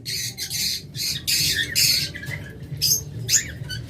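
Opaline lovebirds at a bird seller's stock giving sharp, harsh squawks in quick bursts, loud and close, with no talking.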